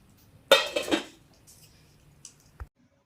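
Metal spoon scraping and clinking against a pot while tomato pieces are stirred into Kerala sambar, a few loud clatters at first, then quieter scrapes and one sharp knock.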